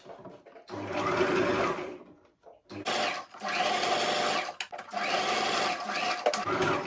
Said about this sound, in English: now you're going to take it to your sewing machine and stitch from here down to this side